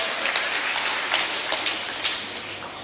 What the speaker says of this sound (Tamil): பயிற்சி மையத்துக்கு தான் இந்த கைத்தட்டல்